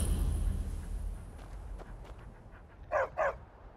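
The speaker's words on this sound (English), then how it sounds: "I hear dogs." In the video game Skyrim, two quick dog barks near the end, fairly close, after a quiet stretch of soft background rumble and faint clicks.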